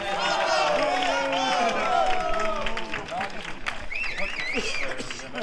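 Crowd at an outdoor knight tournament clapping and calling out, a steady patter of applause mixed with overlapping voices and shouts, moderately distant.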